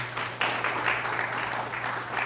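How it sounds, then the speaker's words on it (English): An audience applauds the Dixon Dukes quiz bowl team at a high school quiz bowl match. The clapping is dense and moderately loud, rising and falling slightly over a low electrical hum. "Let's have a nice round of applause for the Dixon Dukes"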